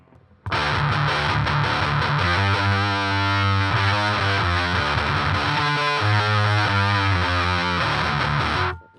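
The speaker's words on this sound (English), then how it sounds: "brings out that weird phasey sound of the HM2, makes it even more hollow and nasally" Electric guitar through an HM2 distortion pedal chugs out thick, buzzy chords with a hollow, nasal, phasey tone, loud and steady for several seconds.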